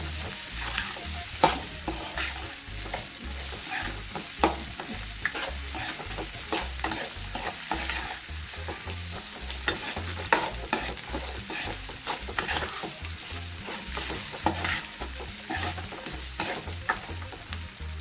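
Coconut pieces sizzle and fry in a pan for a peanut chutney while being stirred, with a steady crackling hiss under frequent scraping strokes of the spoon, close and continuous, with no talking.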